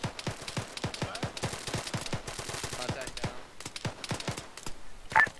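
Rapid bursts of gunfire in the military video game Arma, dense repeated shots cracking one after another at close range, with faint radio-style voices underneath and a sharp electronic blip near the end.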